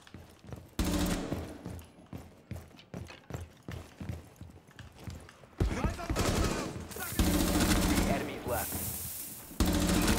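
An MP5 submachine gun fired by the player in Rainbow Six Siege: rapid bursts and single shots, loud and close, building into sustained automatic fire, with a voice talking underneath.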